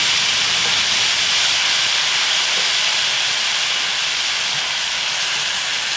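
Bulgogi with onions sizzles loudly over a strong gas stove flame at high heat, a dense, continuous hiss close by with no pauses.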